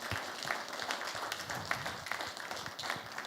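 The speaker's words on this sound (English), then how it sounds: "let's give a round of applause to our couples this evening" An audience claps for the couples at an evening talk show, a moderate, fairly continuous patter of hands heard from a middle distance with no one speaking.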